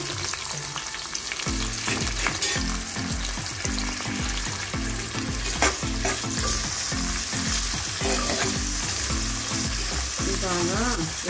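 Chopped onion sizzles steadily in hot oil for a Korameenu iguru, a constant hiss under a rhythmic pulsing stir or background beat, with no talking.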